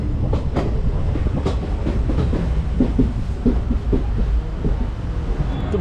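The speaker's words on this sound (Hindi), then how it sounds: "हमारी ट्रेन खुल चुकी है" Passenger train running along the tracks, heard from inside with a continuous low rumble and irregular clickety-clack wheel beats, moderately loud and steady throughout.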